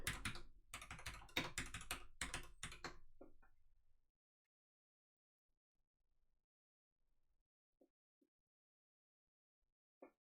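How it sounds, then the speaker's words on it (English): Rapid clattering keystrokes on a computer keyboard, loud and close for about three seconds, then a few stray taps and near silence. "My keyboard sounds good"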